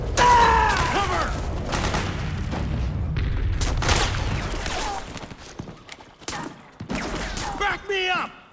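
Battlefield gunfire and booms in the video game Metal Gear Solid 4, scattered bursts of shots and impacts of varying loudness, with soldiers shouting over the fighting.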